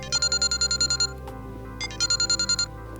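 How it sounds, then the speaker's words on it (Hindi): A phone ringtone sounds in two bursts of rapid, bright electronic pulses, separated by a short pause, clear and close. "जरक का फोन यही है।"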